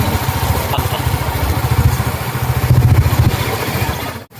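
A motorcycle engine runs loud and close with a rapid, pulsing throb that swells briefly before cutting off abruptly at the end.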